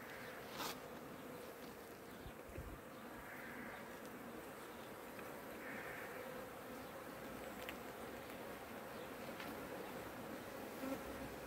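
A dense honeybee colony hums steadily during a hive inspection, with individual bees buzzing close past over a continuous low drone.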